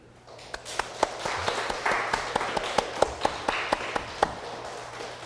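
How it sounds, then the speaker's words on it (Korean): A small congregation in a church claps together in a steady rhythmic beat, with sharp claps over a soft background wash, fairly faint and with no voice over it. "우리 하나님께 영광의 박수를 다 함께 올려드리십시다."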